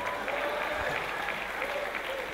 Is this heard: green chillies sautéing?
no